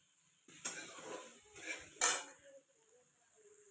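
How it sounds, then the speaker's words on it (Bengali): Potatoes with turmeric and salt are stirred in a pan, giving a few scraping, clattering utensil strokes close by with only faint sizzling, and no one speaking. "এখন আলুটাকে ভালো করে ভেজে নেব হলদি আর লবণ দিয়ে"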